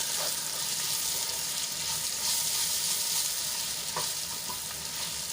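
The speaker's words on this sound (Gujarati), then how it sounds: "તો આપણા સિંગદાણા તલ અને બેસન સરસ રીતે સંતળાઈ ગયું છે તો હવે એને આપણે કંકોડામાં એડ કરી લઈશું" Peanuts, sesame seeds and gram flour fry with spiny gourd in a pan, giving a dense, constant close sizzle with faint stirring scrapes and no voices.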